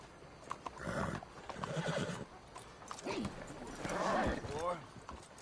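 Horse in the video game Red Dead Redemption 2, with hooves clip-clopping and a couple of whinnies rising over it, close up and moderately loud, while someone talks alongside.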